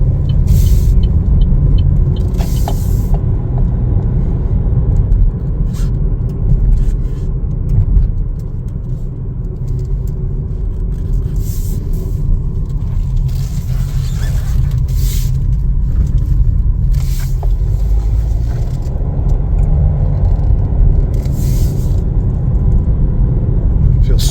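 A 2021 Chevrolet Trailblazer LS with a turbocharged 3-cylinder engine on the road, heard from inside as a steady low rumble of engine and road noise with brief brighter transient clicks and whooshes along the way.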